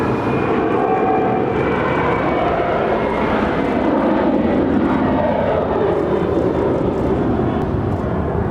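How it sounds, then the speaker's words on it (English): Boeing 747-400 jet airliner operated by a cargo carrier departing Los Angeles International Airport, a steady, loud broadband engine roar that holds constant without a break throughout. "747-400 departing to Taipei."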